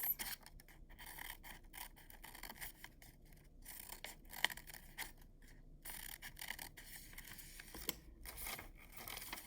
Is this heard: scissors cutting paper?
yes